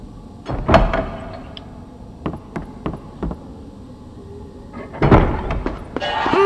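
Inside a Harry Potter-style video game, a door opens with a few sharp thunks and knocks, followed by a louder burst of creaking and clattering near the end, all set against a quiet background.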